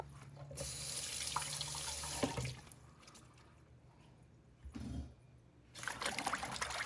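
Leeks get washed clean of soil under a running kitchen faucet; the stream gushes loudly into the sink, eases to a softer trickle midway, then surges strongly twice more.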